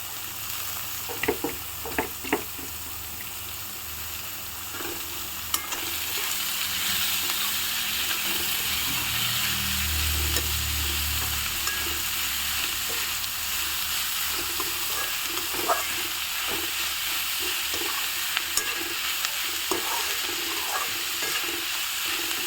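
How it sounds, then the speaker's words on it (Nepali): Cabbage frying in a pan for chicken thukpa, a steady close sizzle with occasional stirring clicks and scrapes, growing louder and denser partway through as it browns. "यो बन्दाकोपीलाई चाहिँ रातो गरेर पारेर भुट्नुपर्छ पहिला"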